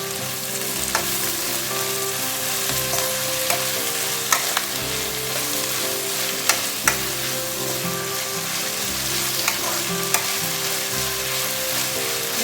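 Kali bhaji greens, freshly washed and chopped, sizzle steadily in hot oil while being stirred, with a continuous close frying hiss broken by occasional scraping clicks of the spoon against the pan; no voices.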